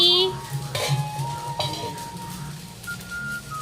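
Fried rice with chicken is stir-fried in a pan, with metal spatula scrapes and clinks against the pan over a low sizzle, close by and moderately loud.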